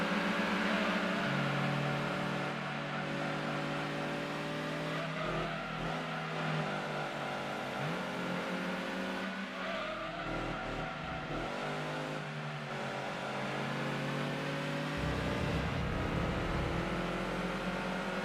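A car engine revs and shifts through gears in the racing game Gran Turismo 2, a loud, steady drone with rising and falling pitch sweeps across the whole stretch, with no talk over it.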